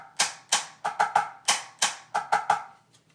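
Sharp snare drum strokes in a check pattern with doubled right-hand hits on the rim, a crisp uneven rhythm of single cracks and quick pairs repeated twice, close and clear with no voices.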